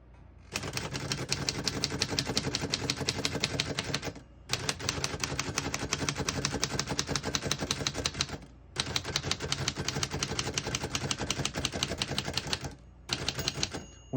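A 1930 Royal Portable P Model typewriter clatters steadily with dense, rapid keystrokes, breaking off briefly three times before resuming; close and loud, no voices.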